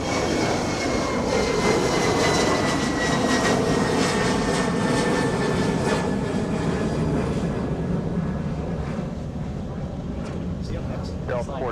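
Jet airliner engines roar continuously at Minneapolis–St. Paul airport on a cold, gusty day, a loud broad rumble that slowly fades toward the end while air traffic control radio voices talk over it.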